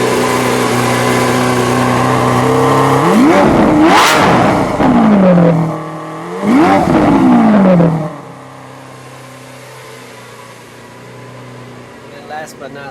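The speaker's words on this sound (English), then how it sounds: "And then this is Sport mode with the exhaust." A white 2017 Lamborghini Aventador S V-12 in sport mode with exhaust revs loudly twice, each a sharp rising roar that falls back, then settles into a deep steady idle nearby, with brief talk.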